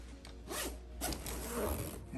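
A zipper is pulled closed along the fabric canopy of a Nuna Tavo stroller, two or three drawn-out rasping strokes, close and clear with soft handling noise.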